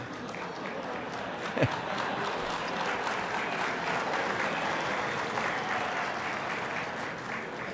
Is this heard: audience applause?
yes